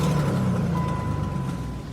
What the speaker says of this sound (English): And it does have an exhaust leak